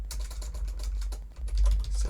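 Rapid typing on a computer keyboard, close and crisp, with quick irregular clusters of key clicks and a short pause midway.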